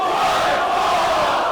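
A raucous wrestling crowd in Fayetteville, Arkansas roars in a dense, sustained wall of cheering and shouting, loud and unbroken throughout.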